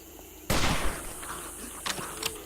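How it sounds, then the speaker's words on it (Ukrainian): A single loud, close gunshot bursts out in the 7 Days to Die video game during a night-time defence and rings out in a long decaying tail, followed by a couple of fainter clicks and thuds. "На Гейба потрібні два патрони"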